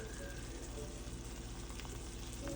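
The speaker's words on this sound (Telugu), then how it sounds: "సో మంచిగా మిక్స్ చేసుకొని కొంచెం సేపు వేగించుకోండి" Paneer bhurji frying in a pan, a quick home recipe, gives a steady soft sizzle with faint stirring scrapes near the end, close but quiet, with no voices.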